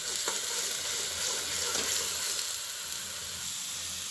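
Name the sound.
masala frying in oil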